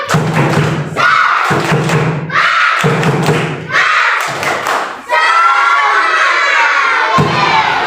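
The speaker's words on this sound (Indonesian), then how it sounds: "kita tepuk semangat dulu, tepuk semangat" Schoolchildren in a classroom perform a rhythmic clapping chant together, loud bursts of shouted voices and claps in short phrases separated by brief pauses, ending in a longer sustained group shout.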